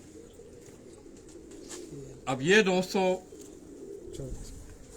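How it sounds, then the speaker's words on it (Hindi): Rooftop pigeons kept by a Karachi fancier give a short burst of soft, close cooing in the middle of the moment, alone above low background hum, with someone talking briefly before and after. "डॉक्टर साहब के अपने घर के ये कबूतर हैं"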